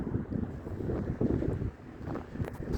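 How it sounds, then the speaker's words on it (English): Strong wind roars across an outdoor microphone on a gusty day in Florida, a continuous low buffeting rumble that swells and dips in loud gusts. "this wind is something else"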